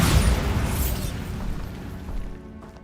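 A Bombarda blasting spell from Hogwarts Legacy lands with a loud, close boom that rolls off into a long fading rumble and debris, with no voices over it.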